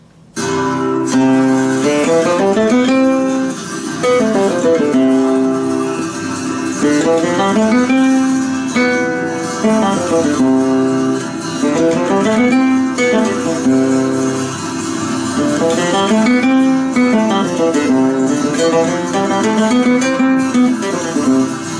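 A solo flamenco guitar plays a rising and falling Ionian mode scale over and over, clear and close, with no voices.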